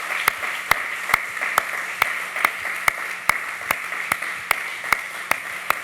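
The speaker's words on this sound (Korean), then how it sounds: "우리 큰 박수로 축하해 주시고 축복해 주시기 바랍니다" During an infant baptism at a Sunday church service, sparse, evenly spaced claps ring out one at a time in a slow, regular rhythm, fairly clear and close against quiet room tone.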